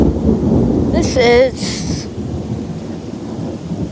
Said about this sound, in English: Really loud lightning just struck.